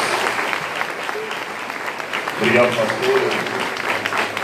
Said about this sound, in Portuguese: E a igreja dê um grande aplauso ao Senhor, em nome de Jesus.